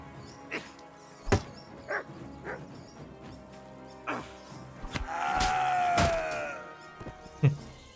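A dog in Kingdom Come Deliverance 2 gives scattered soft barks and a brief whimpering whine, fairly faint and intermittent against a quiet background.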